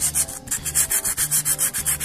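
Rapid rhythmic rasping of sandpaper scrubbing glazed front brake pads from a Rocketman 250 motorcycle, a steady back-and-forth scratch at close range with no voices.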